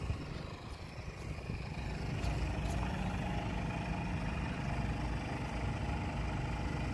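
Inverter generator humming steadily inside a DIY fiberglass enclosure for an RV, heard up close as a continuous even drone with no talk.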